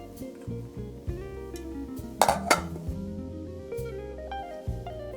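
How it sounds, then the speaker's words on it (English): A lidded jar of caper-juice and English mustard dressing is shaken, giving rattling glassy knocks and sloshing, with a brief louder burst of clinks midway; no talk. "Lid on and a good shake."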